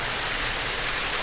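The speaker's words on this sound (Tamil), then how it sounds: "நிற்காமல் அப்போலேருந்து ஒரே மாதிரி பெஞ்சிட்டு இருந்த மழை" Heavy continuous rain falls in a dense, even hiss, loud and close, with no pauses and no voices.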